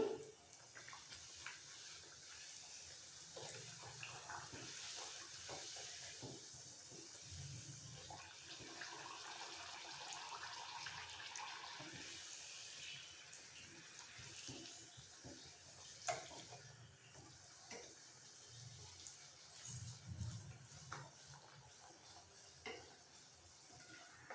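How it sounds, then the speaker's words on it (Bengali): Luchi, puffed Bengali flatbreads, fry in very hot oil over a high flame, giving a soft, steady bubbling sizzle with occasional louder splutters and clinks, fairly faint and without speech. "এবার একে একে ছেড়ে দেবো হাই ফ্লেমে ভাজতে হবে লুচিগুলো"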